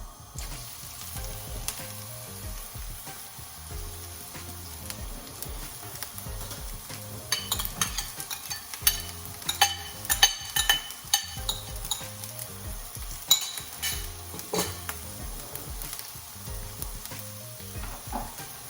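Onions sizzle steadily in oil alongside chicken and beef mince for dum keema, a continuous close frying hiss. In the middle stretch, utensil scrapes and clinks against the pan cut through.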